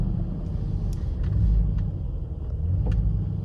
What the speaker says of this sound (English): Hear the engine downshifting?